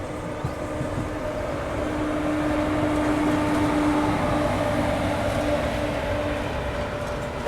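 A Gorakhpur–Anand Vihar Humsafar Express passenger train pulls into Anand Vihar railway station with a steady loud rumble and a sustained tonal hum, heard close and continuous.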